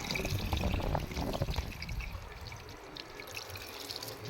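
Water being poured out for a snake, a loud splashing pour at first that thins into a softer trickle outdoors, with no voices.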